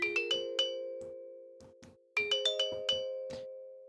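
A dry, compressed vibraphone plays a run of struck mallet notes with tamed attacks and sustained tones, a second phrase entering after a brief gap, loud and close with no voices.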